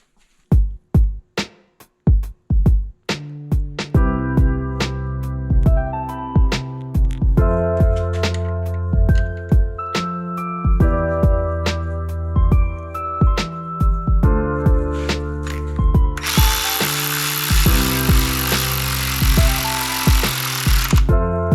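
A bolt coated with blue thread locker is driven in and tightened with tools: first a series of sharp ratcheting clicks, then a loud, steady tool whine with tonal buzzing and a harsh hiss toward the end.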